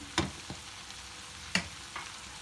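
Chopped onions drop into a hot pan of cooking liver with a few sharp sizzling bursts over a quiet, steady frying hiss; no voices.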